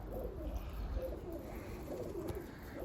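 Pigeons coo softly in low, rolling murmurs against a faint outdoor background hum.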